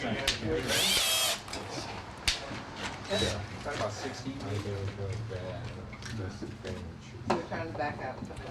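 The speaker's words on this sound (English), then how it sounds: "We're just going to remove this screw so that we don't pop the heads off." A power drill whirs in one short, loud burst while backing out a screw, followed by a person talking at close range with light tool handling.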